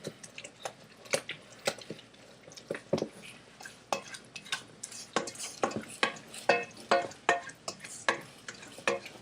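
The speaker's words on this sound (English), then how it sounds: "I'm going to take a wooden spoon, and we're just going to mix together" A wooden spoon stirring a mixture in a bowl, a series of irregular close scrapes and knocks that grow denser and louder toward the end.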